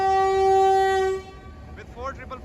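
Subak Kharam train at Lahore Junction railway station sounding a loud, sustained horn for about a second, then cutting off into station ambience with a passing voice.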